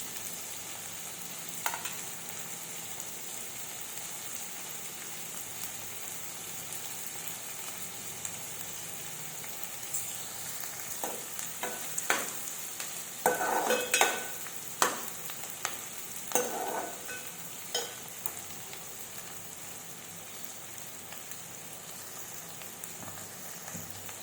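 Onion and green chillies fry in oil for a ridge gourd curry, a steady background sizzle with clusters of sharper crackles and spatula scrapes near the middle.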